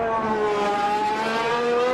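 Formula 1 car engine lifting off on overrun in Automobilista 2, a steady, loud, nasal rasp with layered harmonics that dip slightly and rise again, close and alone.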